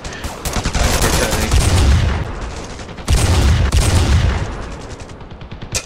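Rapid bursts of gunfire in the video game Ravenfield, two long loud volleys of repeated shots with a short gap between them, no talk.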